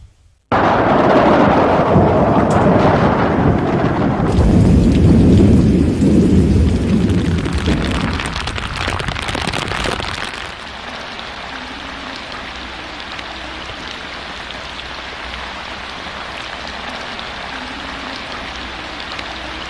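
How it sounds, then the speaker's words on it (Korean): Heavy downpour with thunder by the Taedong River, a loud crack and long rolling rumble over dense rain, then the storm settles into a steady, quieter hiss of rain. "여기 대동강 다리 지점에서의 비 내림량은 137mm로 관측됐습니다."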